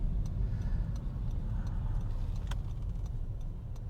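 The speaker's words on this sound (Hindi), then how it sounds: "यहाँ लगा देते हैं गाड़ी।" A car pulls in and parks on a busy roadside by a tea stall, a steady low engine rumble throughout with faint ticking and small clicks on top, no talking.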